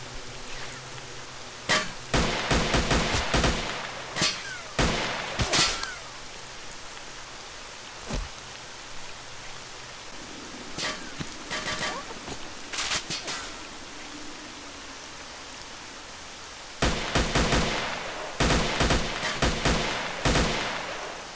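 Gunfire from a weapon in S.T.A.L.K.E.R.: Shadow of Chernobyl, several bursts of sharp rapid shots in clusters separated by quieter stretches, fairly loud and close.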